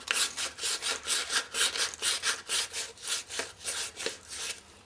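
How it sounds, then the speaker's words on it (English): A turned wooden finial spinning on a lathe is smoothed with sandpaper, giving a steady rhythmic rasping scrape that swells and fades in regular pulses, close and fairly loud with no talking. "rotate it here in some sandpaper to clean that up"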